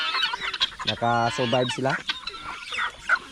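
Farm chickens clucking close by among turkeys, ducks and guinea fowl, a short burst of harmonic clucks in the middle while someone speaks before and after.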